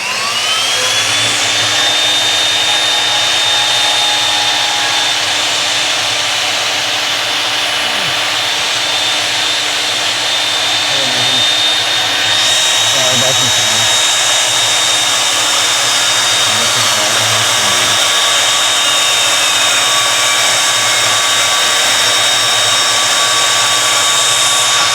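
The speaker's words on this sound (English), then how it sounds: "Bandsaw time." A bandsaw cuts during a go-kart build, giving a loud, continuous whining drone with a steady high tone that shifts partway through as the cut changes, with no voices over it.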